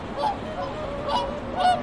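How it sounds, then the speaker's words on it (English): Loud goose-like honks ring out in short bursts, three or four calls spaced across the clip over a steady outdoor hiss. "You definitely hear the swans."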